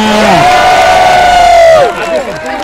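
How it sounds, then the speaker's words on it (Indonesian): At a large campaign rally in Samarinda, a loud crowd cheers with one long sustained shout. The cheer breaks off into scattered calls and crowd noise. "Tepuk tangan buat semuanya"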